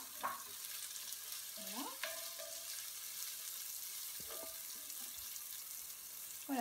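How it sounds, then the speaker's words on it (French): Sliced onions sauté in olive oil in a hot pot, making a faint, steady sizzle broken by a few short scrapes and clinks of stirring. "je fais revenir mes oignons avec une poêle, enfin une marmite bien chaude avec de l'huile d'olive"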